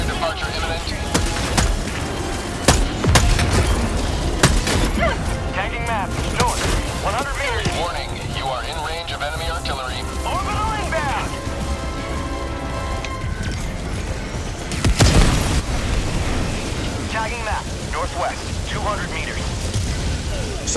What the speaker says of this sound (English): Let's keep throwing grenades.